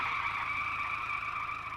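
A car skids to a halt with a sustained tire squeal, loud and steady throughout, the screech holding as the vehicle brakes to a stop on the road.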